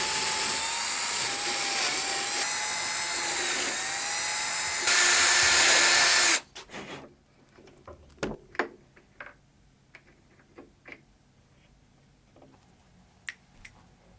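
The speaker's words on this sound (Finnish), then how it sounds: "Porattuani reijän 6-milliseksi onnekseni huomasin" A power drill bores a 6 mm hole in birch wood with a loud, continuous whine that rises sharply just before cutting out. Scattered clicks and knocks from handling follow in near-quiet.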